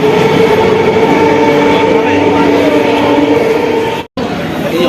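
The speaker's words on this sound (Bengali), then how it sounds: "ট্রেন যাচ্ছে" A train rumbling past at Barrackpore station, loud and close with steady wheel and carriage roar and a brief dropout near the end.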